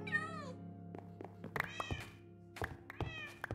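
Several meows from a cat in the Minecraft video game, a clear rising-falling mew at the start followed by a few shorter meows at uneven intervals, close and alone without speech.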